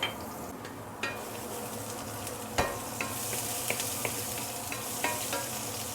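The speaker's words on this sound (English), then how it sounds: "we shall put in the shallot and also garlic. We saute this for a minute or two." Shallot and garlic sizzle steadily while sautéing in a pan, a close continuous frying hiss broken by occasional clinks and scrapes of stirring.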